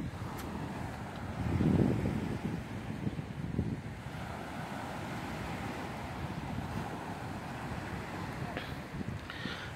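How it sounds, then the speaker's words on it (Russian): Mediterranean sea waves washing onto the shore at a beach resort in Kemer, heard as a steady broadband surf wash with wind buffeting the microphone and one stronger surge early on. "Вот, море послушаем чуть-чуть."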